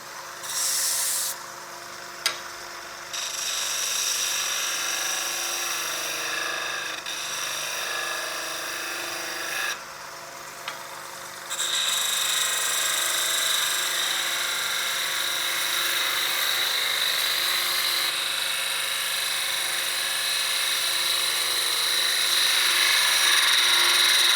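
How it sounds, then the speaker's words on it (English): A skew chisel makes a finishing cut on a wooden peppermill spinning on a wood lathe, a steady close whirring hiss of the turning blank with brief dips where the tool lifts off. "One more cut with my skew."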